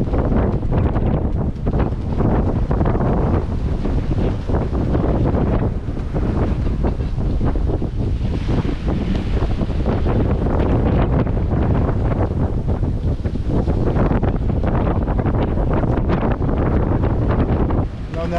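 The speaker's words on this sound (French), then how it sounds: "Il y a 34 nœuds de vent." Loud, constant 34-knot wind at sea on a sailboat roars and buffets the microphone without letup, with a deep rumble of rushing water beneath it; no clear talking.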